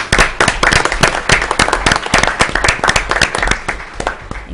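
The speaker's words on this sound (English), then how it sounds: "I'd like to ask for a round of applause for Tariq" Loud, close applause at a town school committee meeting in Wareham, with sharp individual claps standing out in an irregular burst that holds steady for several seconds.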